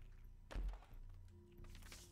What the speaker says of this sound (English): And let's use a bomb in here.